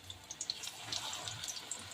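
Bitter gourd leaves coated in gram flour batter fry in hot oil, a close, continuous crackling sizzle dotted with quick bright pops, with no one speaking.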